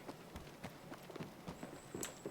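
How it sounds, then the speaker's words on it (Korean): Footsteps in a video game, heard as a series of soft, uneven thuds, roughly a dozen over a couple of seconds, fairly faint under a faint background hum, with no speech. "어 발소리 들리는데?"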